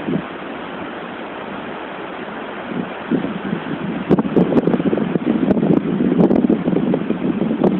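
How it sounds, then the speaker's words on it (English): Wind rushes through a dense stand of trees in a steady broadband roar that swells stronger about halfway through, with faint creaks and ticks of branches, no voices. "it's the wind going through all the bulk of the trees"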